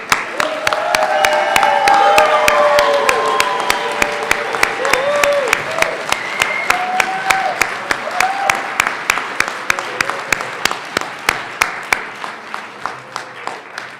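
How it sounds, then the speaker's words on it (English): Audience applauding at a high school equivalency graduation ceremony: dense, loud clapping from a crowd that holds steady and then thins to scattered individual claps toward the end, with voices mixed in. "Let's give another round of applause."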